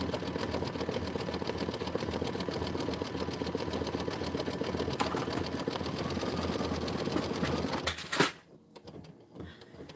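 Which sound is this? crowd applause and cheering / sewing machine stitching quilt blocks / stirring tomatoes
sewing machine stitching quilt blocks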